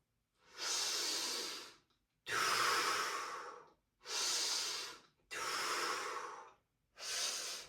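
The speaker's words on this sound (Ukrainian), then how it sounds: "Видих, вдих." Deep, steady breaths during a static breathing exercise, five long hissing exhalations and inhalations, each about a second and a half, separated by short silent pauses, close and clear with no talk.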